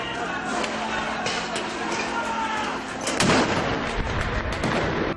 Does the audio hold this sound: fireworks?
yes